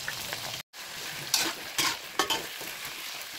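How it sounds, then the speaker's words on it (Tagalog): Potatoes and carrots frying in oil, a steady broadband sizzle with a brief dropout and a few louder bursts of crackle as pieces are moved, close and continuous with no talking. "iprito muna natin ang patatas at carrots"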